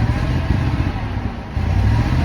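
A small engine that had been struggling runs steadily after fresh gas is added, a loud continuous low rumble with slight fluctuations in level and no voices over it.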